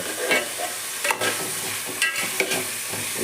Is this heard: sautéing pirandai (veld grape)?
yes